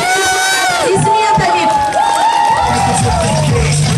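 Children at a birthday party in a hotel hall cheer and shout together in a loud, continuous burst, with high excited voices rising and falling throughout.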